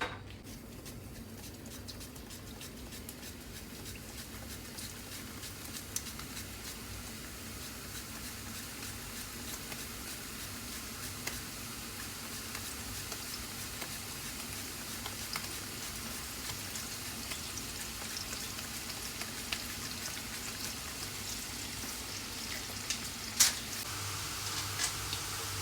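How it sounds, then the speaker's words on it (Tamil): Raw nendran banana slices frying in hot oil for chips, a soft, continuous crackle and patter of bubbling that stays steady and fairly quiet throughout, with an occasional sharper pop and no talk. "டைரெக்டாக எண்ணெயிலேயே ஸ்லைஸ் பண்ணிடலாம்"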